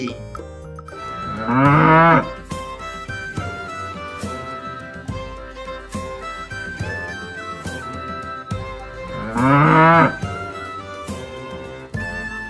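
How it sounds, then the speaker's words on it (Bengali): Two loud, drawn-out moos from a cow and calf, one near the start and one near the end, sound over a continuous bright musical backing track. "গয়ে গরু বাছুর দাঁড়িয়ে আছে"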